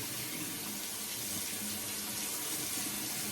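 Razor rinsed under a running tap: a steady, even rush of water splashing into a sink, constant from start to finish, close and moderately quiet, with no voices.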